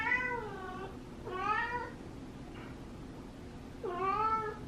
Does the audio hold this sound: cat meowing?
yes